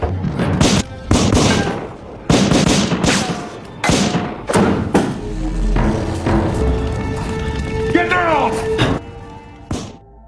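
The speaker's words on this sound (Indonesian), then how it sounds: "tiba-tiba Julius datang dan terjadilah aksi tembak-tembakan" Gunfire erupts in an action film shootout, heavy thuds and sharp bangs in rapid bursts, loud and close, with a voice or two and other effects mixed over the fight.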